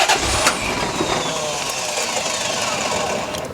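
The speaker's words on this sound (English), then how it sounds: "That starter motor sounds like a Mopar starter motor, doesn't it?" The starter motor of a C4 Corvette ZR1 in a barn-find project car cranks the engine with a steady whirring grind close by. The engine does not catch, and the cranking fades toward the end.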